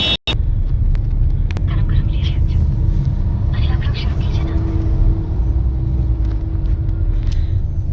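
Police vehicle arriving at a truck accident site on the narrow Killa Dharur ghat road: a loud, continuous engine rumble with traffic noise close by, while someone talks over it.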